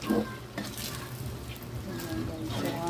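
Sticky rice for biko being stirred in a pan, with scraping utensil strokes and a soft sizzle, plus a few clinks of cookware; close and steady throughout, with no talking.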